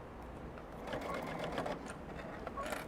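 A sewing machine stitches quilt pieces on pre-printed batting, a soft rapid mechanical whirring that picks up in the middle and stays fairly faint and close.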